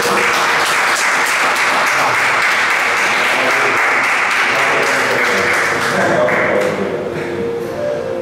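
Sustained, dense applause from a church congregation during a worship service in Guadeloupe, loud and steady for several seconds before thinning slightly at the end.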